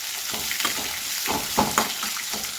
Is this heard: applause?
no